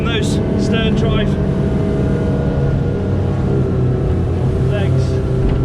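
Fairline F Line 33 motorboat with stern drives running at speed, a loud continuous engine roar mixed with rushing water and wind, steady and close throughout.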